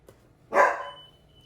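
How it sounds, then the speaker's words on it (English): A single short dog bark, sharp and fairly close, fading quickly into a quiet room. "he's barking at everything that moves outside"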